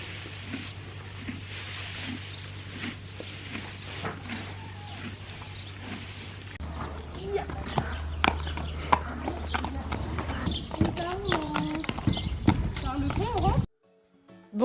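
A horse named Pépère clip-clops steadily under a rider during a relaxed familiarisation session, hoofbeats close and rhythmic, with a voice talking over them at times before a sudden cut to silence.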